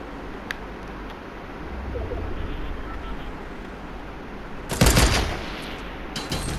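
Sniper rifle fire in the battle royale game Fortnite: a loud, sharp crack bursts out near the end, with a fainter shot or two earlier, over a low steady ambient hum.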